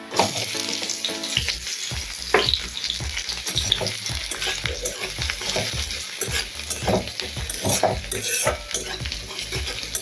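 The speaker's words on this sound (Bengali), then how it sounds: "আদা, রসুন, পেঁয়াজ ভালো করে ভেজে নেব।" Minced ginger, garlic and onion sizzle steadily in hot oil in a pan while a spatula scrapes and stirs in a brisk, repeated rhythm, close and loud throughout.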